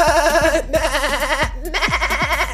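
Minecraft sheep bleat in wavering, vibrato-laden calls, several in quick succession, loud and close with brief gaps between them.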